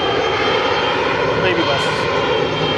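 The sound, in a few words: Embraer jet airplane taking off at Sky Harbor airport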